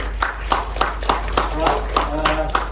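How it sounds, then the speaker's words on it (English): A small audience applauds after a training program presentation with steady, evenly spaced claps at close range, while a voice speaks briefly over them. "Round of applause."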